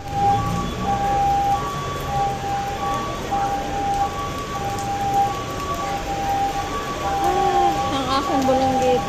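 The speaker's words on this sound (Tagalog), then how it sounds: "Lakas ang ulan." Heavy rain pours steadily in Baguio, a dense constant hiss with people talking over it and faint tones drifting in the background.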